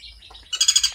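Serindit hanging parrots in an aviary give a quick burst of several bright, high-pitched chirps close by, following softer twittering at the start.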